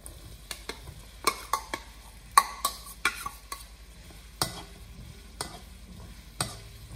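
Bell peppers stirred in a frying pan with translucent softened onions, a low sizzle under a series of sharp spatula scrapes and knocks at an irregular rhythm, close and alone.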